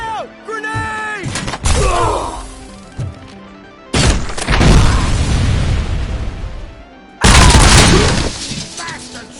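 Grenade blasts in Robocop: Rogue City boom loudly several times in a firefight, each a sudden heavy burst with a rumbling tail, amid shouting voices and game sound effects.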